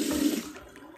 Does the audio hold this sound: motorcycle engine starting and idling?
no